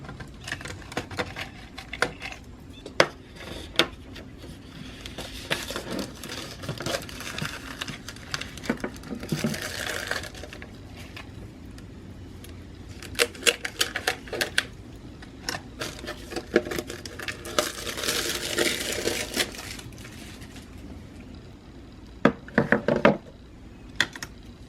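A small hole is cut into a Dollar Tree plastic container, heard as close, irregular snips, scrapes and knocks of plastic in bursts separated by quieter pauses, soft and intimate throughout.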